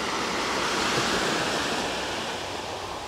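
Steady rush of Atlantic surf washing continuously on the shore at Sotogrande, Spain, a broad, loud wash of water with no pauses and some wind.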